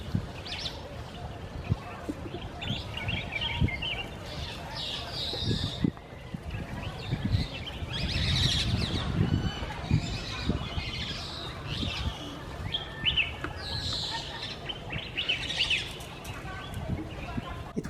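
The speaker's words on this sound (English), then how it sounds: "It was lovely watching Senegal parrots in the wild and bringing this kind of footage back to you." Wild Senegal parrots in The Gambia give faint, intermittent high chirps and calls over a steady outdoor background, sometimes with soft wing flaps.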